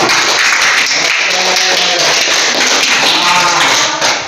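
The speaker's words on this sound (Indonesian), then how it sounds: "Sebelumnya kita tepuk tangan terlebih dahulu." Classroom applause from a group of students, a dense, steady wash of clapping that fills the whole stretch loudly, with faint voices mixed in.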